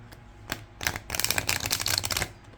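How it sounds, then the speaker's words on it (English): Oracle card deck being riffle shuffled, a soft patter of card taps building into a dense, close fluttering burst of riffling in the second half before cutting off. "you should have no problem riffle shuffling your deck."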